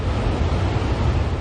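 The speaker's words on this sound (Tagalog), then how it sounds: "dama na ang epekto ng bagyong Inday sa naglalakihang alon na humampas sa dalampasigan ng Basco sa Batanes" Large storm waves from Typhoon Inday crash on the shore at Basco, Batanes, a dense continuous roar of surf and wind, loud and close throughout.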